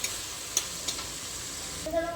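Sliced onions sprinkled with salt fry in a pan, a steady soft sizzle with a few stirring scrapes, close and moderately quiet with no voices.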